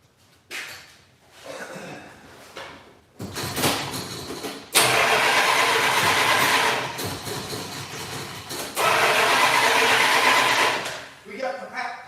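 A car engine cranks and catches, then revs loudly and settles into a running rumble with a second surge, while voices talk briefly over it nearby.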